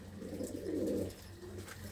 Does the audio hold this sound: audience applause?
no